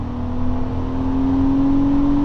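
A naturally aspirated BMW N52 straight-six engine revs steadily upward, its droning tone climbing gradually and staying loud and close throughout, with no talking.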